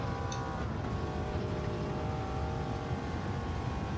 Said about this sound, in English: Oh, this thing revs. This thing revs, okay.